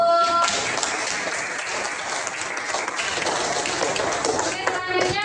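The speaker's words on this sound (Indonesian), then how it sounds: "tepuk tangan dulu" A classroom of students applauds together after agreeing on their class beliefs, a dense, steady wash of many hands clapping at close range that lasts several seconds, with faint voices mixed in at the start and end.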